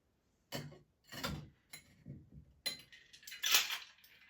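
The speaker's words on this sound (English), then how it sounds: "we're going to give it a good shake, so pop some ice in" Ice rattles and clinks inside a shaker in several vigorous bursts, loud and close, with short pauses between them.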